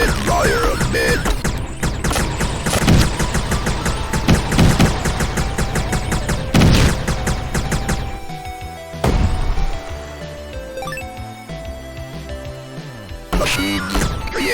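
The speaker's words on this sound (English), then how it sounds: "I do love the music in this game." Video game music plays continuously and loud, a dense beat-driven track with sharp percussive hits and sustained tones, dropping to a quieter sparse passage partway through before the full texture returns.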